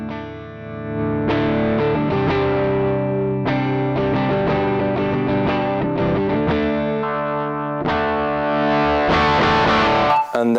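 Electric guitar chords played through a Tech21 Richie Kotzen RK5 pedal ring out with a driven, effected tone, struck several times in sequence with a brief break near the end.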